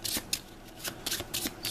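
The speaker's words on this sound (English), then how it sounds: "This is the last time I shuffle this" Deck of cards for the board game Maximum Apocalypse being shuffled by hand, a few quick riffling bursts up close and fairly quiet, with no talking.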